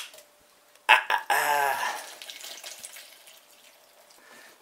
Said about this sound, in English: Just need to put some water in there.